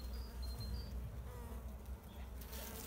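Honey bees buzz at an open beehive, a faint continuous hum with individual insects droning past close by, no voices heard.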